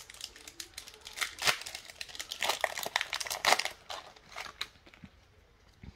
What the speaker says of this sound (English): let's go ahead and open this here pack